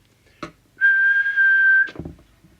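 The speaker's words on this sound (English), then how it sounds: "get it spot on with the whistle test" A short click, then a steady pure whistled tone into a CB radio transmitter, a York JCB867, held for about a second, ending with another click and a brief rustle.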